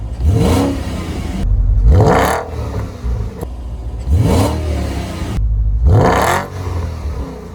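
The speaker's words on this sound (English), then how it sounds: "you are looking at that quad exhaust, which has a mean rumble and roar to it" A Porsche Panamera's quad exhaust rumbles and revs up close, four loud sweeping blips separated by short idle pauses, each rising sharply and then falling away.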